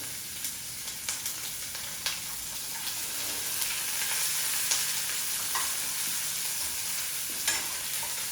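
Onions frying in a pan, a steady close sizzle and hiss with intermittent spatula taps and scrapes as they are stirred, moderately loud, no speech.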